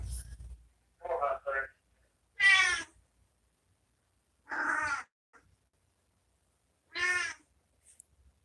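A cat on a farm meows repeatedly, four or five drawn-out, insistent calls spaced by pauses of silence, close and fairly loud.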